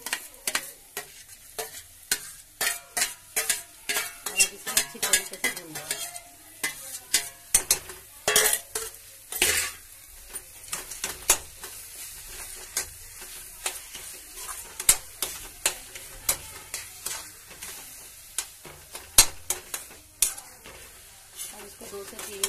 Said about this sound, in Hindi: इसको दो से तीन मिनट इस तरह तरीके से भूना है, अच्छी तरीके से, जिससे कि जो मसाला है वो बैंगन के जो भरता है उसके अंदर अच्छी तरीके से रच बस जाए